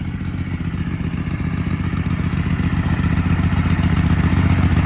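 An old hydrostatic garden tractor engine runs after sitting in storage for ages, a steady low chugging putter close by that slowly grows louder, with no talk.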